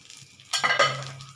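Lid lifted off a pan of fish oil fritters frying in oil: a faint background sizzle, then a sudden burst of louder crackling and a short metallic clatter of the lid, with no voices.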